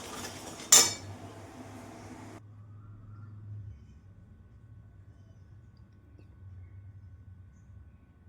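A utensil scrapes and clinks in a pan while ground sugar and crushed green cardamom are stirred, one sharp metallic knock near the start, then a low steady hum from the stove.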